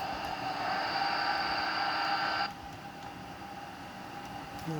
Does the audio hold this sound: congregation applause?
no